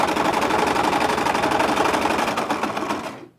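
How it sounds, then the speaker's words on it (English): A sewing machine stitches a reversible bag in a fast, even, close-up rattle of needle strokes that runs steadily and then winds down and stops. "So just sewing up to that pin."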